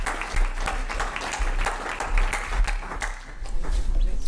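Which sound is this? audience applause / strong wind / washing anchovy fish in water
audience applause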